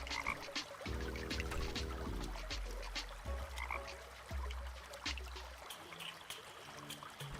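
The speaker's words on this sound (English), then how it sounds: "Where's the frog?" Frog croaking in a video game, a run of deep, rhythmic croaks repeating over several seconds against a soft trickling-water ambience, fairly quiet and without talk.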